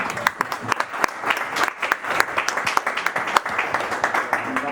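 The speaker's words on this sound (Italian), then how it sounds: "un applauso ai nostri ospiti." Audience applause for guests at an Italian book presentation event, a steady mass of claps from a nearby crowd with sharper individual claps standing out, continuing throughout with a faint voice or two underneath.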